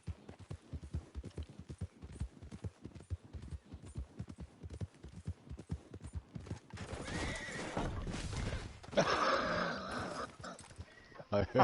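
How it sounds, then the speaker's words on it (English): Horse hooves clip-clopping in a steady, rhythmic gait, then a loud, drawn-out neigh rising over the steps near the end, close and clear. "What are you doing with my horse?"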